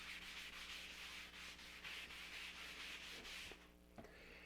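Close, quiet rubbing across charcoal on paper, with rhythmic scratchy strokes that repeat steadily and then stop, followed by a couple of light taps.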